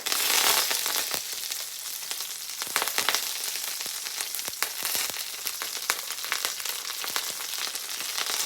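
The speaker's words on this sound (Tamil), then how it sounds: "எண்ணெய் சூடாகிட்டுது இப்போ நான் செத்தல் மிளகாயை போடுறேன் கருவேப்பில்லை" Dried red chillies and curry leaves fry in hot oil, giving a continuous close crackling sizzle with sharp pops and spits scattered throughout, no voices over it.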